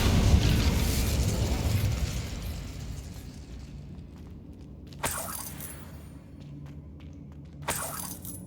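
The Incendio fire spell cast in Hogwarts Legacy opens with a loud, dense whooshing roar that fades over several seconds, followed by two sharp bursting cracks spaced a few seconds apart, with no talk.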